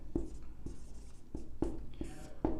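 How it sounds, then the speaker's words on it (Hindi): Chalk or marker strokes from a teacher writing notes on a classroom board, a series of sharp taps and scratchy strokes in an irregular rhythm, close and moderately loud. "तो हम लिखेंगे"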